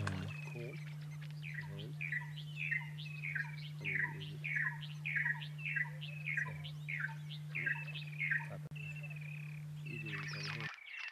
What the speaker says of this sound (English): the bird king here is the fish eagle